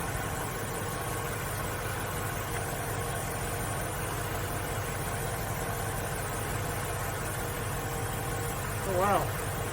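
A car AC compressor runs beside a steady engine idle, giving a continuous mid-low hum and vibration that holds evenly throughout, with a short brief sound near the end.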